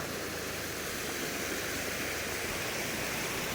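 Steady rushing flow of a river fed by mountain spring water beside a roadside coffee stall in rural Subang, West Java, a dense continuous wash of water with no talk.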